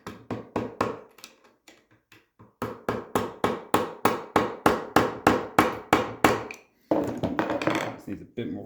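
A hammer strikes a chisel during a Triumph TR6 gearbox rebuild, a steady run of sharp metallic blows close up, paced about three per second with a short pause, then a burst of busier clatter.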